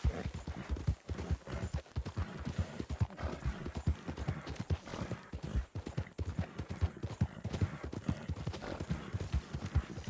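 Horse hooves clip-clop in a quick, steady galloping rhythm in Red Dead Redemption 2, loud and close throughout, with faint game ambience underneath.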